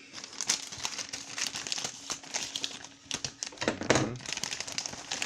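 Scissors cut through a plastic-wrapped parcel from China, giving close crinkling and rustling with brisk snipping bursts and a louder crunch near the middle, no voices.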